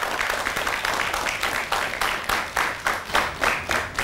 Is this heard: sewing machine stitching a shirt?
no